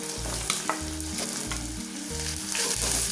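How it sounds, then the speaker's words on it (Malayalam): Onion, ginger, green chili and garlic sautéing in oil for a Kerala beef stew, a loud dense sizzle with repeated rhythmic stirring strokes, close up and with no one speaking. "ഇതെല്ലാം ഒന്ന് എണ്ണയിൽ വഴറ്റാം."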